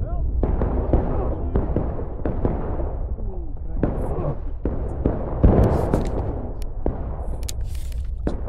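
Musket volleys and artillery fire in a Civil War battle video game at Bloody Lane, with repeated sharp cracks and booms popping irregularly, some near and some distant, while players shout orders over them.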